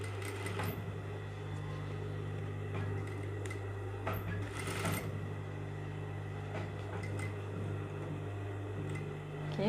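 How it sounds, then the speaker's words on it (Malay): Sewing machine stitching the elastic joining piece and interfacing onto a fabric waistband, a steady close motor hum running the whole time with small clicks and thumps of handling. "kita just jahit je"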